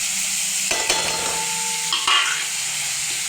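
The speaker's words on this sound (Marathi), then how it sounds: "ते हलवून घ्या आता हलवून घेतला कांदा" Chopped onion being stirred in oil in a frying pan, a continuous sizzle with a couple of scraping spoon strokes against the metal, close and fairly loud, no voices.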